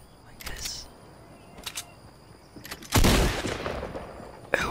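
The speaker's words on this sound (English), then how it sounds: "we're gonna be doing some shotgun or gun switching" Fortnite video game shotgun fire and weapon-switching sounds play in a quiet setting, with a few sharp clicks and bursts early on, then one loud blast that rings out before a final sharp crack.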